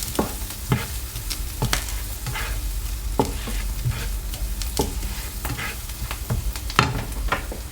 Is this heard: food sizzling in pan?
yes